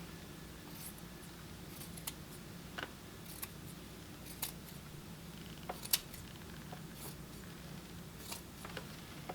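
Scissors cut through yarn pulled under tension, giving a few faint, scattered snips and clicks over a quiet, steady background hum, with no talking.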